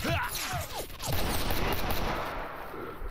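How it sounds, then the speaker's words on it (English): Bursts of rapid gunfire rattle through a STALKER Anomaly firefight, loud close shots layered over dense roaring game noise with a few whooshing sweeps early on and no talk. "that guy actually shot me a shit ton"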